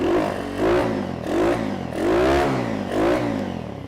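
A Braaap SS125 motorcycle fitted with a performance-kit muffler that still has its silencer revs up and down in several rising and falling bursts, loud and close, with no talking.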